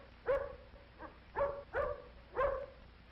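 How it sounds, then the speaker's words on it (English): A big dog barks four times in quick, loud bursts, with a faint low growl running between the barks. "But the big dog growls at Tippy."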